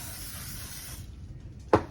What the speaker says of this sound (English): I'm going to spray the top of it with our spray.